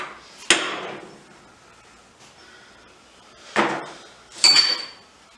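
Three sharp metallic whacks of a hammer on a Toyota 7.5 IFS differential part during a rebuild with a Spartan locker, one early and two close together later, each ringing briefly in a quiet space.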